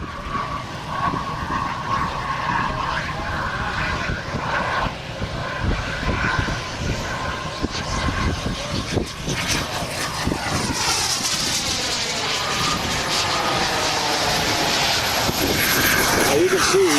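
A model Eurofighter jet roars through its takeoff at a warbird event, loud, steady engine thrust building and holding across the whole stretch, with a rising whine near the end and some background voices mixed in.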